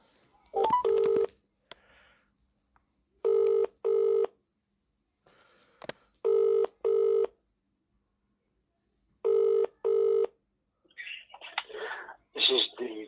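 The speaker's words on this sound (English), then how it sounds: "Ringing up Graeme Kenna." A telephone rings three times at a steady pace, each ring a double burst, with a few clicks and rustles around it.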